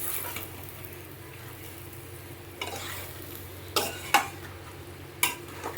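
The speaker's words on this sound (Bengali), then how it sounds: "এবারে চিকেনটার সাথে মশলাটা ভালো করে ম্যারিনেট করছে" Spice paste being worked by hand into raw, skin-on, bone-in chicken for a marinade: soft, steady squelching with a few sharper wet clicks and slaps near the end, close and quiet, with no talking.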